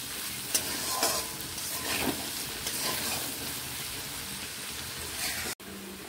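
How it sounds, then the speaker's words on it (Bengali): Potato and carrot pieces fry in oil with salt and turmeric, a dense continuous sizzle with occasional scraping stirs, close and loud, with a brief cut near the end. "আলু ও গাজরগুলো ঠিক এইরকম করে ভেজে নিয়েছি"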